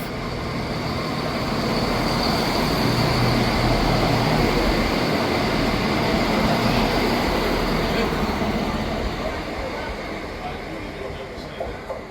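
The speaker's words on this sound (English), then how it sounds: "Passing through now is the 1554 ScotRail service from Edinburgh Waverley to Perth." A ScotRail passenger train from Edinburgh Waverley to Perth passes through a station at Dalmeny or North Queensferry. Its loud, steady rumble and wheel roar swell and then fade slightly as it goes by, and no voices are heard.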